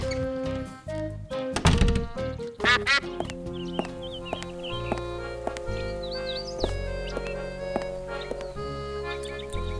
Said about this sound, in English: It's a rather unspectacular duck.